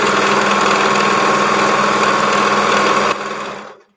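A sewing machine runs at steady speed stitching fabric, a dense continuous mechanical whir close by and alone, then slowing and stopping near the end.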